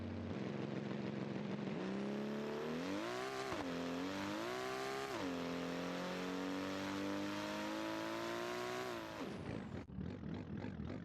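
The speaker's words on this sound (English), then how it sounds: "I can almost hear that engine revving up now. Just let it rip and let's see how it runs." A simulated car engine in BeamNG Drive revs hard through several gear changes, its loud droning pitch climbing, dropping at each shift and rising again before cutting off into a choppy idle.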